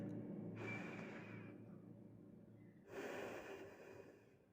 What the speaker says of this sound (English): take a 2 deep breaths